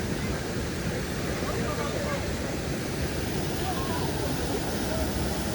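Water tumbles over a waterfall in a forest, producing a dense, constant rushing roar that stays at the same level throughout with no pauses.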